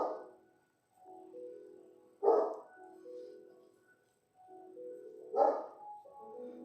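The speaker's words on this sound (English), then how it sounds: "It's more of a boof, boof, boof, or bork, bork, bork than a bark" A big dog gives three deep, boofing barks spaced a few seconds apart, each a short, fairly quiet burst over soft, sustained tones.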